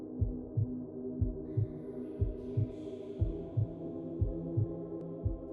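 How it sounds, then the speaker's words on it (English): A heartbeat sound effect in a horror story throbs steadily in a double-beat rhythm, about one beat per second, over a low continuous hum, with no voices. "My heartbeat too fast."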